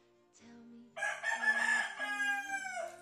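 Chickens and roosters clucking at first, then a loud near rooster crowing in a long drawn-out cock-a-doodle-doo, with hens clucking underneath.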